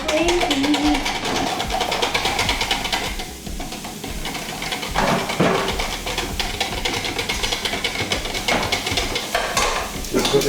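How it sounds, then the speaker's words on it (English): Onions and about half a pound of sausage sautéing in a pan, a continuous loud sizzle with stirring scrapes, partly under talking voices. "I'm going to saute this down, and then I have about half a pound of sausage"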